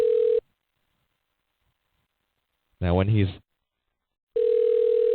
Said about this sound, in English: I'm going to give him a call back again